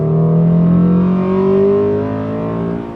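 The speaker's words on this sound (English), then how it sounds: "You just hear that sudden burst of induction noise as it cracks into VTEC." Honda Accord Euro R engine, running with a tune, pulling hard under acceleration: loud induction roar that climbs in pitch as it cracks into VTEC, with a sudden harder edge partway through before it eases off.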